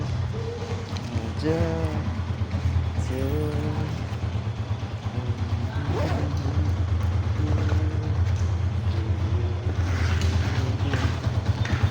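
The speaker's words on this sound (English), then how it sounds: "now I wanna go out my motorcycle, because now the engine warm up" A steady low motorcycle engine rumble, idling while warming up, runs throughout, with a person talking intermittently over it.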